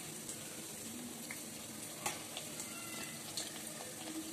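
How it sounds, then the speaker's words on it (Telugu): Wheat flour jaggery biscuits deep frying in oil on low heat make a quiet, even bubbling sizzle with occasional soft pops and clicks, heard alone and faint. "మనం కొంచెం వాటిని సిమ్ లోనే డీప్ ఫ్రై చేసుకోవాలి"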